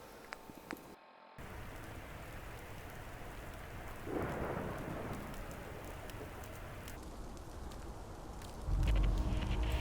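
Steady rain pours over rumbling thunder in the rainy outdoor world of the game Fallout London, a continuous wash with a swell of thunder near the middle and a deeper surge at the end.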